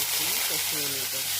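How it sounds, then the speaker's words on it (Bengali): Hilsa fish fries in hot oil in a kadai, giving a steady close sizzling hiss while a voice talks over it. "মাছটা কষিয়ে নিয়েছি"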